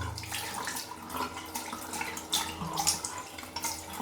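Tap water runs and splashes steadily over an Honor X7C smartphone during a wash test, a continuous broadband spray with small splatter bursts, fairly close and with no talking.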